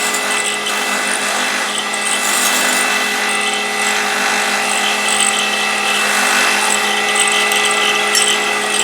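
Wood lathe turning and beveling the edge of a cotton reel, heard as a loud, continuous motor whine with steady high cutting hiss throughout.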